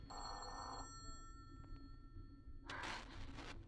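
An old-fashioned telephone bell rings in bursts within a radio drama scene, a faint electric jangle that sounds once, pauses, then rings again over low background hum.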